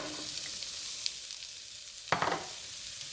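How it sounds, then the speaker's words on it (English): Vegetables hit hot grapeseed oil and turkey fat in a pan, and a steady frying hiss jumps into a sudden loud crackling sizzle that then settles back to a constant sizzle, with no one talking. "And now we're going to dump in the vegetables and"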